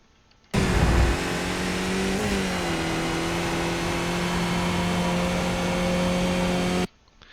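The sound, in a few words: race car accelerating and shifting gears in iRacing video game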